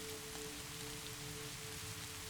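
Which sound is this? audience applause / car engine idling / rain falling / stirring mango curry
rain falling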